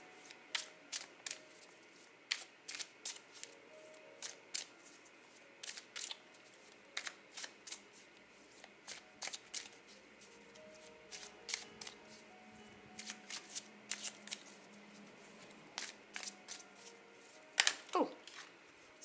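A large pile of tarot cards being shuffled: quiet, irregular flicks and riffling snaps scattered throughout, soft and close, with no speech.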